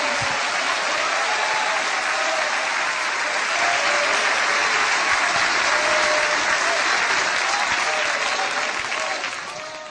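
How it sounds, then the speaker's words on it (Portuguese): A church congregation claps joyfully in praise during a worship service, a dense, sustained wall of applause lasting several seconds before beginning to fade at the end. "Glória a Deus com palmas, com alegria, igreja, com alegria."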